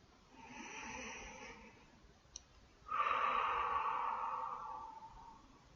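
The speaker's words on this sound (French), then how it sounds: "Je vais à présent prendre 3 grandes respirations." Slow, deep breaths drawn close to the microphone in a quiet room during a sophrology relaxation exercise: two long airy breaths, separated by a short pause with a faint click.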